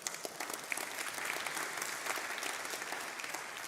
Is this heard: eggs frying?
no